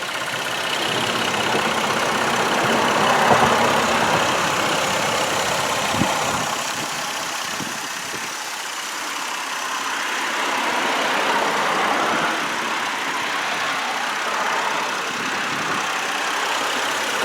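A 2007 Chevrolet Malibu Maxx engine idles under an open hood, a close, even mechanical hum with a slight whine, holding steady with gentle swells and a couple of faint clicks.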